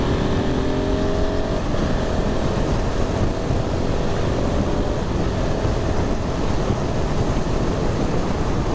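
A 2022 KTM 690 SMC R motorcycle accelerating in fourth gear from around 80 km/h, its engine rising in pitch over a constant loud rush of wind and road noise, heard from the rider's position.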